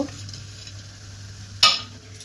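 Mashed peas filling for matar kulcha, seasoned with salt and sugar, is stirred in a pan with a low steady sizzle. A single louder scrape of the utensil stands out near the end.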